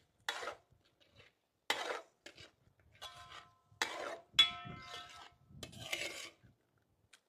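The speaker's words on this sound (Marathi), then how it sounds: "आपण आता ग्रेव्हीमध्ये पनीर घालून घेऊ, क्यूब केले होते ते। व्यवस्थित मिक्स करून घेऊ।" Paneer cubes being stirred into thick gravy in a pan for paneer makhni, heard as a series of short metal-on-pan scrapes and clinks in separate bursts.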